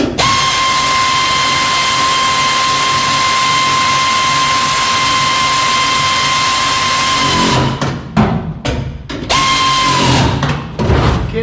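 A power tool drives a bolt tight on a crew cab roof, a long steady high whine that runs for several seconds, then breaks into short stuttering bursts near the end.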